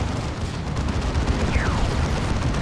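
Dense, continuous battlefield din of heavy cannon fire and explosions from a Leman Russ tank's Executioner cannon in Warhammer 40,000: Dawn of War II, loud and rumbling throughout with no clear pauses.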